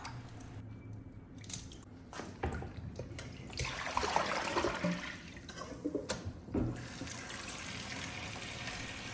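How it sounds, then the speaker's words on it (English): Peeled green bananas rinsed under running tap water, with steady splashing and trickling that swells in the middle and carries on alone to the end, no talk. "And then I just wash them off again, give them a rinse"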